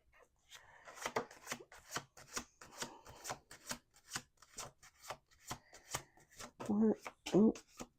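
Tarot cards riffle and rub in a series of quick crisp bursts, with soft talking and a few rustles near the end.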